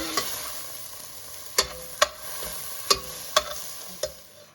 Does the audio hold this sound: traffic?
no